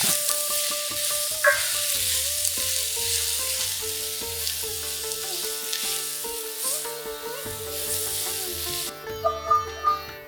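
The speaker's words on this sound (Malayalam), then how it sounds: "ഒന്നര ടേബിൾ സ്പൂൺ പെരഞ്ജീരകം അര ടീസ്പൂൺ ഉപ്പ് ഇതെല്ലാം ഒന്ന് രണ്ട് മിനിറ്റ് നേരം വഴറ്റുക" Fennel seeds and salt sauté in a pan for a Kerala-style mutton fry, giving a steady sizzle and stir that runs through the whole stretch beneath prominent background music.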